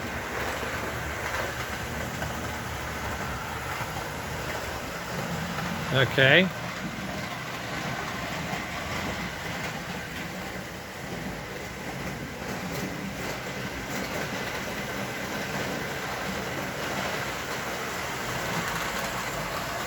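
A model train locomotive runs on its rails on motor power alone, at about 9–10 volts, pulling three heavy weights in a mailbag car. A steady rumbling whir carries throughout, with a brief clatter near the start and a voice speaking once.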